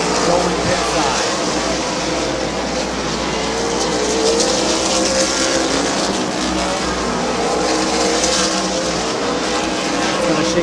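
Race cars roar steadily around the oval at Midvale Speedway, a continuous loud engine drone with rising and falling pitches as cars pass, under a commentator's running play-by-play.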